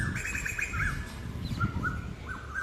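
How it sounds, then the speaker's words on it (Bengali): Several birds chirp and call in quick bursts of short tweets over steady outdoor background noise, fairly close and lively, with no talking. "পাখিগুলো কি চিল্লাচ্ছে দেখো না।"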